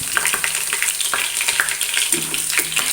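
Chicken pieces fry in hot oil, a close, steady bubbling sizzle broken by repeated light scrapes and taps as the pieces are turned.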